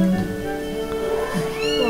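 Cat meows inside the video game Zelda: Skyward Sword. A steady, tonal mewing continues throughout over a sustained musical game background, loud and close.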